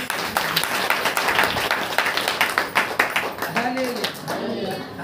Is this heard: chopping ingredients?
no